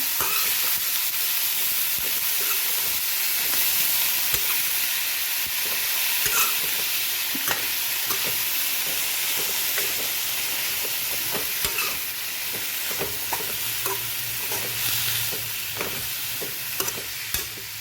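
Banana peel and carrot stir-fry crackles loudly and constantly in hot oil, with intermittent stirring scrapes throughout the long, dense sizzle.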